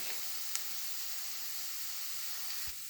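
Onion and carrots frying gently in oil on the stove, giving a faint, steady hiss with no clear breaks and one or two small ticks.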